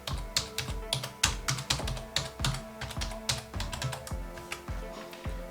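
A password is typed on a computer keyboard close by, a steady run of crisp individual key clicks at an even, brisk pace with no talking.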